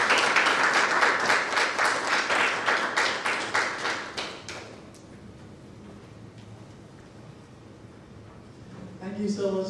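A summit audience applauds with dense, loud clapping that gradually thins and fades out over several seconds, then a voice begins speaking.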